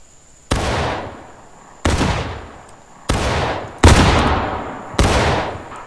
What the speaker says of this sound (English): Let's give it one more staggered fire and then we'll fire by volley and then charge.